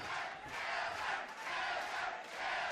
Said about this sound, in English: The crowd seems to be getting behind Cowzer here as well.